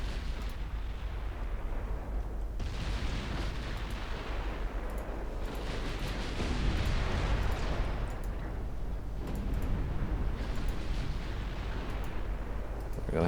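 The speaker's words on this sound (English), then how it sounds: "We got the torpedo launch." Torpedoes launched in the naval warfare game Ultimate Admiral Dreadnoughts, heard as a steady, loud rumbling roar of repeated bursts and booms rolling over each other for the whole stretch, with no voices.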